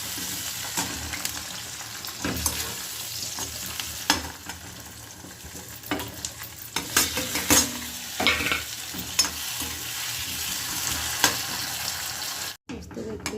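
Onions sizzle steadily in a hot pan for kadhi while a spoon scrapes and stirs them in irregular strokes, close and fairly loud, with brief quiet moments and a short gap near the end.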